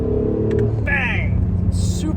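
A 2017 Acura NSX with a 9-speed dual clutch transmission snaps through a quick upshift, engine note dropping sharply mid-rev under a steady cabin rumble, with a brief chirp afterward.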